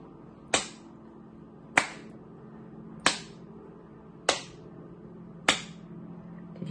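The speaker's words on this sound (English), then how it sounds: "I clap, you listen." Five single hand claps for counting, sharp and evenly spaced about a second apart, crisp and close in a quiet room, with no talking between them.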